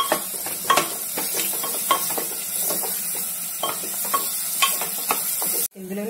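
Onion pieces and green chillies stirred into a pan of mutton, with a spoon scraping and clacking in a steady irregular rhythm over a soft constant sizzle, close and moderately loud, ending with a brief knock.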